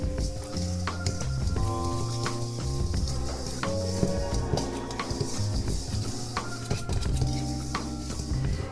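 Eggs are stirred into bread roll dough in a bowl, giving a continuous close churning and scraping with soft clinks of the utensil against the bowl, steady throughout with a faint background hum and no talk.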